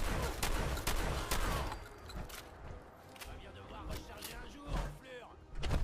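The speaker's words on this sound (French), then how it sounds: "on tire dessus au lance-missile" Missile launcher fire in Fallout 4 lands as sharp blasts and thuds scattered among other combat noise, with someone talking over the action.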